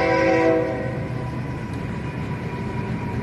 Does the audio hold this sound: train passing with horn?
yes